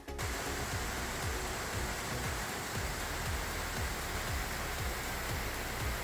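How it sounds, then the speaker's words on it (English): Cross River Falls in Schroeder, on Lake Superior, gives off a steady, dense hiss of falling water, even and unbroken throughout, with no voices. "The first falls we stop at are the Cross River Falls in the town of Schroeder."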